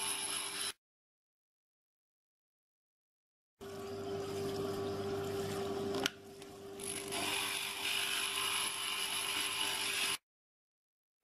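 A grinder works on the edges of a fused glass piece, giving a steady, moderately quiet whirring hum with a constant tone and a sharp click partway through, broken by short silent gaps at start and end.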